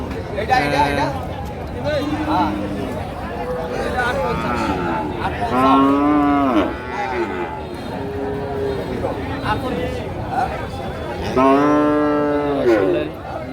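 Friesian heifer calves at the Monohar livestock market in Shariatpur district moo loudly, about three drawn-out calls close by, among a busy babble of people talking.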